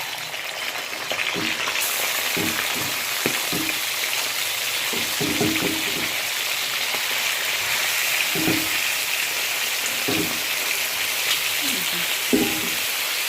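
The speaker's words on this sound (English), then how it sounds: "Let's fry the gambas a little bit." Gambas (prawns) frying in hot oil: a steady, dense sizzle that fills the whole clip at close range, with a few soft scraping or stirring knocks scattered throughout.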